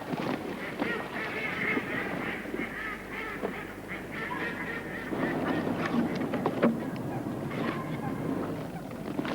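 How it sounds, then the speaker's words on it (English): Loud, busy honking and quacking from a crowd of ducks being driven into a decoy trap, continuous and close, with flapping and scuffling throughout. "The decoyman follows up rapidly to drive the ducks forward"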